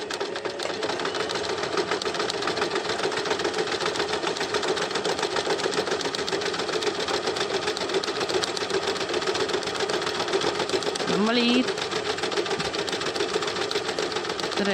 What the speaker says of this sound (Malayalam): ഇനി നമുക്ക് സ്റ്റിച്ചിങ് സ്റ്റാർട്ട് ചെയ്യാം